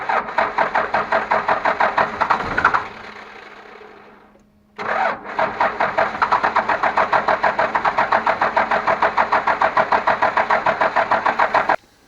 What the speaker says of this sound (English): go in the truck, start it up, hold it at 1500, and hope for the best